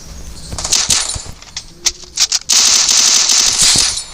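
Gunfire in the mobile battle game Free Fire Clash Squad, with rapid bursts of shots, a few scattered single cracks, then loud sustained automatic fire, all close and harsh.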